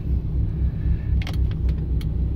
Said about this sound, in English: Now we'll just put her in drive and let's go for drive around the block.